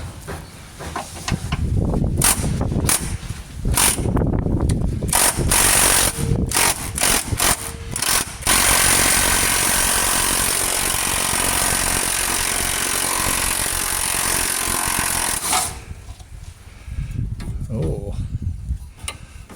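Impact gun fitted with extensions working on rear subframe bolts of a Jaguar XKR, with a long, loud continuous hammering burst after several short rattling bursts, and low talk near the start and end.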